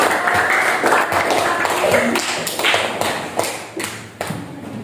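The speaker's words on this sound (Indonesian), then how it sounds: "Berikan tepuk tangan dulu." Students in a school classroom clap after a group presentation: loose, irregular claps mixed with scattered taps and thuds on desks, fading toward the end, with voices underneath.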